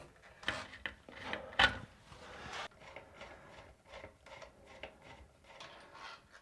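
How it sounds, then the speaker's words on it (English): Scraping, rubbing and ratcheting plastic-and-metal handling while a toilet seat bracket is worked loose and removed, irregular quiet rasps and clicks with a few louder knocks, close by. "Okay, so let's take this bracket off."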